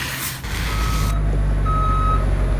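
Gravel delivery truck backing up, its reversing alarm sounding steady high beeps over a loud low diesel rumble, with a brief hiss near the start.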